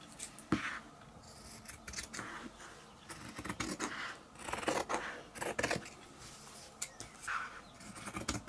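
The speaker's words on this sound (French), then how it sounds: "je vais d'abord couper la lisière parce que j'en ai pas besoin" Scissors cutting the selvedge off fabric while sewing a mask, a series of crisp close snips and rasping cuts in irregular bursts, some rapid and clustered, with no talking.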